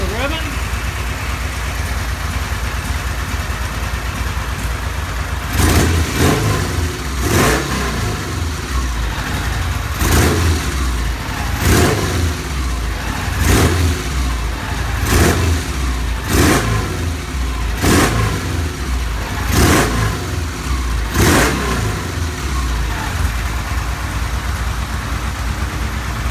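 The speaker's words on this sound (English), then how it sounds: "Do a little revving." A vintage British motorcycle engine idles steadily, then is revved in a series of about ten sharp blips at a quick irregular rhythm, loud and close in a workshop setting.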